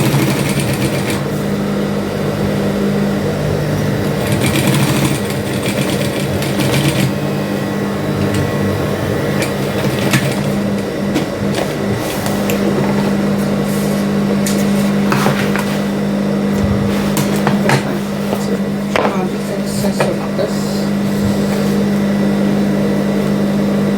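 A sewing machine stitching fabric for a handmade afrocentric bag, a steady droning mechanical hum running nearly without pause, close and fairly loud, with occasional clicks and rustles of cloth.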